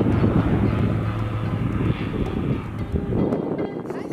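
Bush plane flying over a remote part of Namibia near the Messum crater, its engine and propeller giving a steady, loud, continuous drone mixed with wind rush on the microphone.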